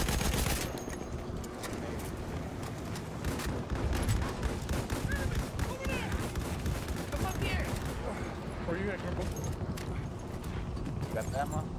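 Battlefield 1 gameplay gunfire crackles in rapid, dense bursts throughout, with loud overlapping shots and battle noise while players talk over it.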